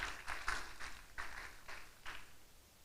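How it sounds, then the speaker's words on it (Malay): An audience at a graduation ceremony gives a faint, scattered round of applause, with several sparse claps spread over a few seconds that fade toward the end. "Kita berikan tepukan kepada barisan peserta topik yang keempat."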